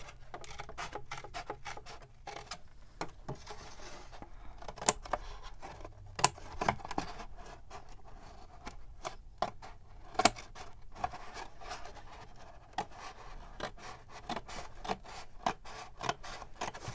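Scissors cut apart paper for a junk journal cover, producing quiet, close snips and rustling paper. The snips come in an irregular run of sharp clicks.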